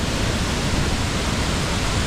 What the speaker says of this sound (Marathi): हा आहे कशेडीच्या हातीतला धबधबा.